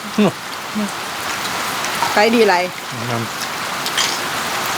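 Steady rain falls outdoors as a dense wash under a voice, with short bursts of talk cutting through the constant hiss.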